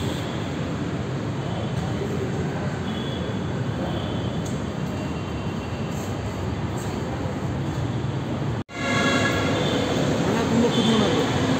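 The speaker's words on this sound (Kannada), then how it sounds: "ಫಸ್ಟ್ ಟೈಮ್ ಮೆಟ್ರೋದಲ್ಲಿ ಹೋಗ್ತಾಯಿದ್ದೀನಿ ಇವರು," Ride aboard a Bangalore metro train: a steady rumbling, whooshing cabin drone with faint tones throughout, a brief cut near the end, then the drone resumes slightly louder, with a voice faintly underneath.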